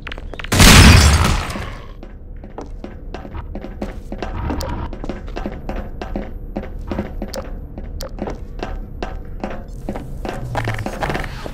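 Grenade blast in the video game Synergy: one loud, sharp burst near the start with a short, heavy rumble, then a steady run of repeated clicks and knocks over the game's background noise.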